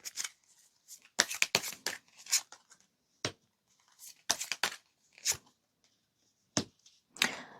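Tarot cards shuffled and drawn during a reading, heard as a series of sharp, close riffling and snapping bursts separated by brief pauses, with no talking.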